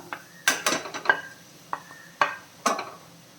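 Spatula scraping and clinking against a pan while chicken, tomato and pepper powder are stirred together, with a handful of sharp metallic scrapes and knocks spaced irregularly over quiet background.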